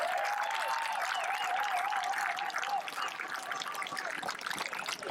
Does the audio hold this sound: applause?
yes